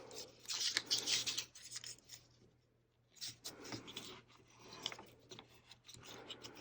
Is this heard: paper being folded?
yes